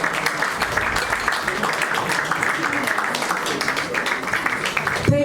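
Audience applause at a Women's Month event session, a steady broad wash of clapping sustained throughout, close and fairly loud, ending with a brief tonal blip.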